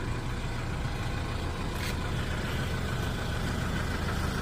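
A Hyundai Porter 2 truck idles nearby. Its engine gives a constant low, even rumble with no revving and no voices.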